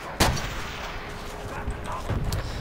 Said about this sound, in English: Didn't quite get enough time to line up that shot.